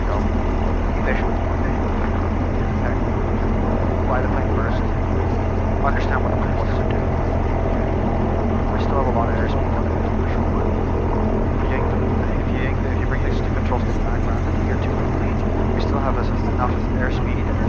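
Light propeller airplane in flight during private pilot training, a steady loud engine drone filling the cabin throughout with no letup, while an instructor and student talk over it.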